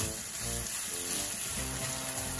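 Sliced burger patties frying in a pan for a bow tie pasta dish, a faint continuous crackling sizzle with a soft, steady hiss and no talking.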